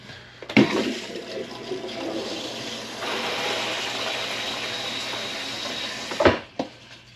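A Riverstone Legacy 39RKFB RV toilet tank refills with a steady rushing hiss of water, bracketed by sharp clunks at the start and end.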